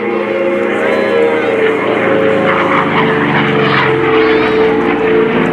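F4U Corsair propeller aircraft at the 2017 Rhode Island Air National Guard open house airshow, a loud continuous engine roar and drone close by with shifting pitch, a public-address voice talking over it.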